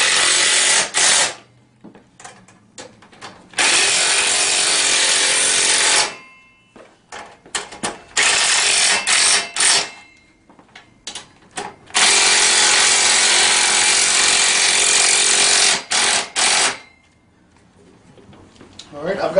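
A power driver tightens bolts on a Tao Tao Mini 110 ATV during assembly, with loud, sustained whirring bursts of several seconds each, broken by short pauses and quick clicks.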